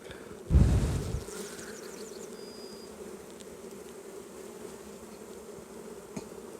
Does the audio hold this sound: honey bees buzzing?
yes